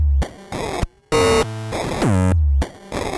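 Chiptune synth patch randomized in the miniBit app on an iPad, jumping between buzzy 8-bit tones, falling pitch sweeps and brief silences, loud, upfront and unaccompanied by talk.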